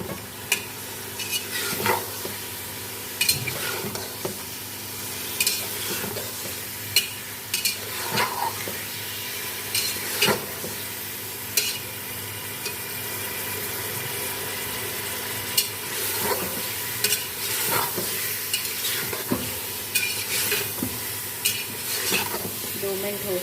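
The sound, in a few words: masoor dal and meat being stir-fried in a pan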